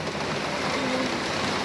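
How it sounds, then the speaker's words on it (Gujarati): Rain falling with wind, picking up gradually, makes a steady close hiss of drops on surfaces with no voices over it. "હવે થોડો ફાસ્ટ થાય છે, ધીમે ધીમે ફાસ્ટ થાય છે. પવન સાથે વરસાદ આવે છે"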